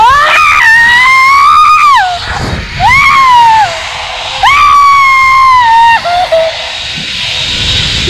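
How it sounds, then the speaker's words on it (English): A person on a zip line at an adventure park in Jamaica screams loudly in three long, rising and wavering bursts, close and piercing, separated by short gaps of rushing wind. "That's why I screamed."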